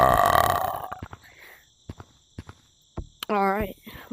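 One loud human burp opens, followed by quiet room noise with scattered faint taps and a short voiced sound near the end.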